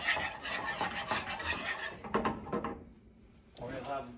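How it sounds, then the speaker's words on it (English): A whisk scrapes and stirs a roux in a pan while making country fried chicken, with quick rhythmic metal-on-pan rubbing that pauses briefly before resuming, heard alongside a talking voice. "when you make a roux, you always want to keep her whisking."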